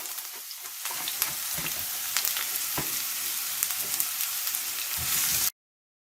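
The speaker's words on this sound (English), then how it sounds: "Now that it's nice and hot, we're going to go ahead and add our onions." Onions for pork adobo fry in hot oil with a loud, even crackling sizzle that runs steadily with small pops, then stops abruptly into silence.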